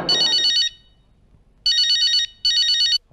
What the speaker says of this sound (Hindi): फोन है, टेलीफोन है।